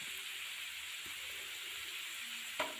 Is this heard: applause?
no